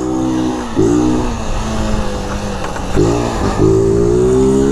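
Rafael's new motorcycle revs up loud and close in two strong bursts, each engine note climbing and then holding steady between the rises.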